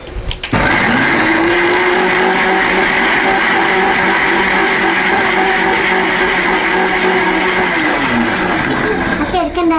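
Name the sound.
mixer grinder grinding coconut and lemon for a drink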